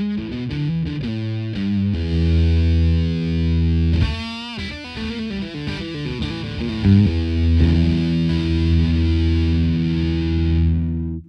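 Electric guitar played through an Electro-Harmonix Sovtek Deluxe Big Muff Pi fuzz with an overdrive in front, giving thick, saturated, sustaining chords and single notes at steady loudness with no talk.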